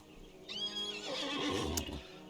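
Several horses whinny and neigh loudly in a Lord of the Rings Online game scene with riders of Rohan massing, a long rising whinny followed by overlapping calls and faint hoof clatter.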